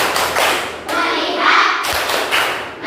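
A classroom of children clapping the 'tepuk fokus' routine, a few dull rhythmic clap groups close by with faint voices in the room.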